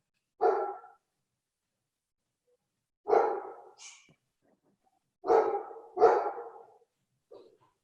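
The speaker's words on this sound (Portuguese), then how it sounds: "tem um cachorro aqui que está me incomodando do barulho" A small dog barks in short separate bursts, about five times over several seconds, with silent gaps between, moderately close and with no talk over it.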